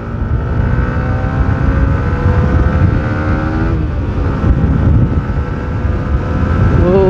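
A Yamaha R15 V4 motorcycle on a fast ride gives a loud, steady roar of engine and rushing wind that fills the whole stretch, with a voice faintly audible under it.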